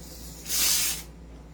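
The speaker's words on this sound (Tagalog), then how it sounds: "Then, spray silicone oil" Short hissing burst of silicone oil sprayed from an aerosol can onto a KP-16 airsoft gun, about half a second long, close over a quiet background.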